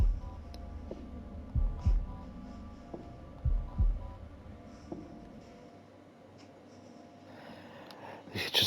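Heartbeat in a timing minigame from the video game The Devil in Me, deep low thumps arriving in paired beats at a slow regular pace under a faint hum, then fading before a brief rise of other game sounds.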